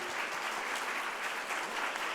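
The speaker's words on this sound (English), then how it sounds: "Let's give them another round of applause." Audience at a Black Lives Matter Day morning session applauds again, a steady dense wash of clapping that holds evenly throughout without pause.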